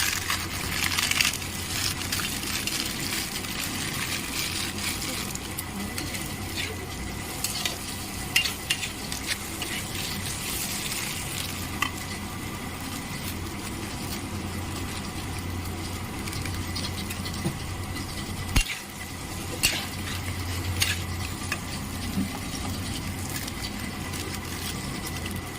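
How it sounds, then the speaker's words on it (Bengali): Maggi noodles being stirred into sizzling masala in a pan, with steady frying hiss and repeated scraping of the spatula against the pan, close and continuous with occasional louder knocks. "আমরা এগুলো ভালো করে নেড়ে ছেড়ে আমি এবারে ম্যাগিটা দিয়ে দেবো"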